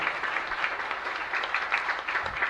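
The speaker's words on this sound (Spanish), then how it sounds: "un fuerte aplauso para nuestro santo patrono, San Baltasar" Church congregation applauding their patron saint San Baltasar during Mass, a steady patter of many hands clapping at moderate loudness, fairly even with slight swells across the short span.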